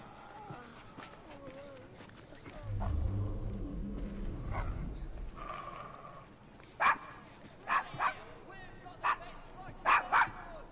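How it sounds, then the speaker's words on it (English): A dog in the video game Assassin's Creed Syndicate gives several sharp barks in quick pairs near the end, following a low rumble and game dialogue. "Is your dog quite all right?"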